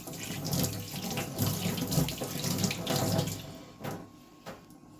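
Tap water pours steadily into a basin as it is washed, a close, continuous splashing rush that thins out near the end with a few final drips and clatters.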